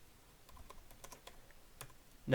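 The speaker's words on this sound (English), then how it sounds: "So just type out this command." Someone types on a computer keyboard while entering a Minecraft command: a quiet, irregular run of light key clicks, fairly close, ending in a slightly louder tap.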